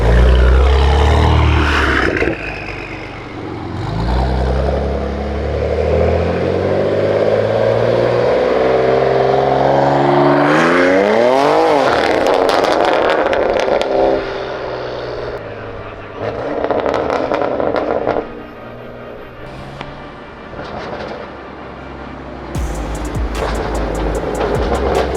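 A rebuilt BMW M4 driven around the block, its engine droning and revving loudly up and down with sweeping pitch changes, interspersed with road noise and brief speech.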